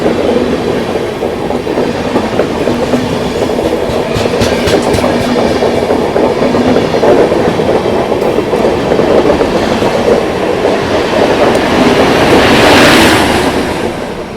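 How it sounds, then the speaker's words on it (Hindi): Chennai Mumbai Express train passing close alongside a halted train on the outer tracks of Arakonam Junction, a loud continuous rumble with rattling wheel clatter sustained throughout. "अराकोनम जंक्शन के आउटर में रोक रखा है अपनी ट्रेन को और बगल से ये पास हो रही है"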